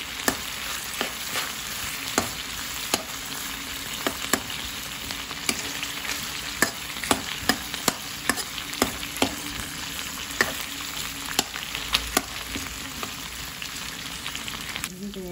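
Onions sauté in a pan for Filipino pork pochero, a steady sizzle with frequent sharp clicks and scrapes of a spatula stirring, close and even.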